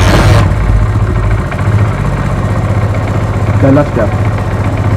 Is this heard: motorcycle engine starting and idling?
yes